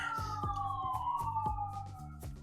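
A wailing police siren outside sweeps steadily downward in pitch, loud and continuous, with rhythmic low thumps beneath it.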